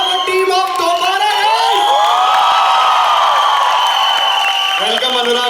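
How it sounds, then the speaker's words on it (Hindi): A college crowd at a film promotion event for Dobaaraa roars with loud, sustained cheering, high shrieks and whoops. Faint clapping sits underneath the continuous close wall of voices. "जोरदार तालियां फॉर टीम ऑफ दोबारा।"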